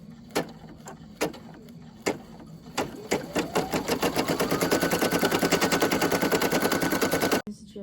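An embroidery machine stitches a small circle on an in-the-hoop bean-stitch bag tag, starting with a few separate needle thumps before settling into a steady, loud, fast mechanical chatter that runs until it stops abruptly.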